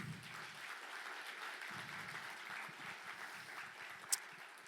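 Audience applause at a soil and land-use sustainability conference in Estonia, a steady even wash of many hands clapping, fairly distant and soft, with a short louder clap near the end.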